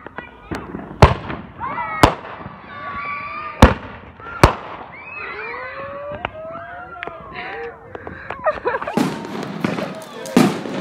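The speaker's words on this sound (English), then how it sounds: "fireworks." Fourth of July fireworks go off in a series of sharp, loud booms and crackles, about ten bursts with whistling trails and fizzing between them, as people talk and call out nearby.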